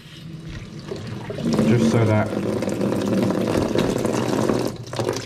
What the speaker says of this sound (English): And what I'm going to do is run some water